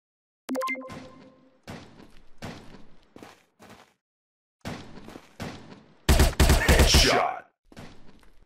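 Gunfire in a SWAT counter-terrorist shooting video game: separated single shots and short bursts ring out, ending in a loud, rapid volley near the end.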